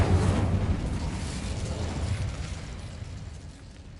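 A fiery spell-cast blast from the Hogwarts Legacy video game, a loud broadband whoosh and burst at the start that rumbles and slowly fades over several seconds, with no talking.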